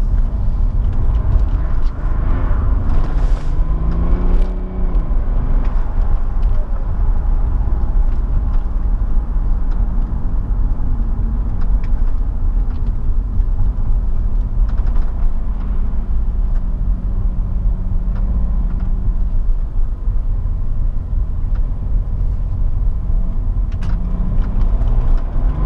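A 2005 BMW 535d E60 with 370 hp pushes along a curvy extra-urban road, heard from inside the cabin as a steady, loud engine drone that rises and falls with acceleration through the bends.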